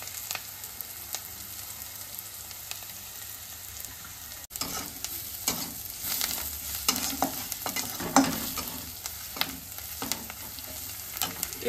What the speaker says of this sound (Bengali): আমার পেঁয়াজ, কাঁচা লঙ্কা, রসুনটা মোটামুটি ভাজা কমপ্লিট হয়ে গেছে। আমি একটুখানি এর মধ্যে হলুদ গুঁড়ো দিয়ে দেবো,